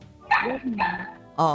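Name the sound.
dog barking outside the house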